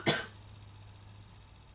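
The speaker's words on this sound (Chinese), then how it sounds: "老师，我咳嗽" A single sharp cough sounds close and loud at the start, then fades into a quiet, steady low hum.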